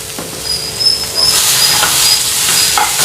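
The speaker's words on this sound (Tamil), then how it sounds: "நல்லா 1 நிமிஷம் நல்லா வதக்கிக்கோங்க." Red cowpeas sauté in a hot pan with dried chilli and asafoetida, giving a loud close sizzle and hiss that swells after the first second, with a few scraping stirs.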